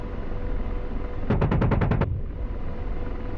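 A short burst of rapid cannon fire from an AH-64D Apache gun in the DCS World flight simulator: about eight evenly spaced shots in under a second, loud over a steady engine and rotor hum.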